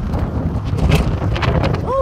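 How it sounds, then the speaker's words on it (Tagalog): Gusty wind buffets the microphone in a steady, loud low rumble that barely lets up, with faint indistinct sounds in the background, in Siloam Springs, Arkansas. "Ang hangin."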